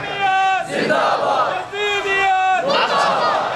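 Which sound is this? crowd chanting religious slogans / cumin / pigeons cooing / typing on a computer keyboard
crowd chanting religious slogans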